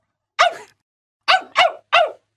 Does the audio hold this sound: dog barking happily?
yes